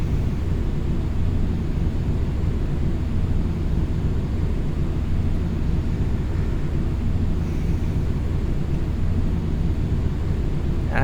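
A Boeing 737 rolling down the runway after landing in a flight simulator, a steady broadband rumble of wheels and engines at constant loudness with no speech.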